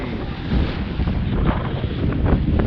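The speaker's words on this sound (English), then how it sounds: "Sail's flapping a little bit, I just need to trim them a bit." Sails of a sailboat flapping in strong wind during a crossing of the Bristol Channel, a steady roaring wind buffeting the microphone with irregular fluttering bursts, loud and continuous with no talking.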